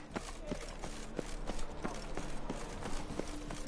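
Hooves of the horse Roach pounding in The Witcher 3 at a quick, regular gallop rhythm, moderately quiet, over a rumbling background.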